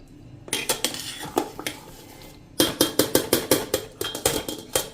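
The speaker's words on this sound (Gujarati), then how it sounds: "આનું બેટર આપણે એકદમ સ્મૂધ કરવાનું છે, તો આપણે એને અત્યારે વિસ્કરથી એકદમ સરસ ફેટી લેશું" A whisk beats khandvi batter in a bowl, rapid rhythmic metallic clinks in fast repeated strokes, close and crisp, with a short pause midway.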